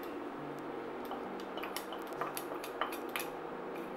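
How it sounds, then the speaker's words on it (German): A whisk stirs cold cream into a sage sauce that will go with cod saltimbocca, making light repeated metal taps and scrapes against the pan over a steady low background hum. "die kalte Sahne hinein und mit einem Schneebesen einfach aufrühren"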